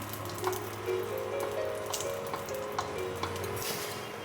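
Dried red chillies frying in a pan at home, a soft steady sizzle with faint scraping and light clinks, no voices.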